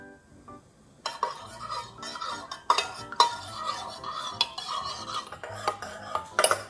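A spoon stirs water, strawberry jam and agar powder in a pot, giving light scraping swirls and intermittent clinks against the metal, close and fairly quiet, with no talking.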